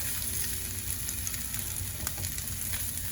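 Greens drop into a hot pan with gluten-free vegetable protein and settle into a steady, close sizzle with no talking.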